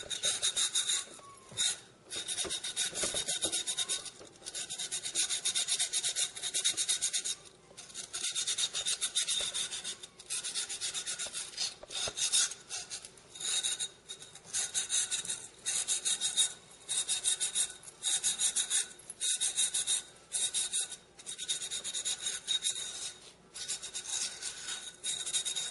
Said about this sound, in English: take a little cloth, a silicon carbide cloth, and just go along the edges of it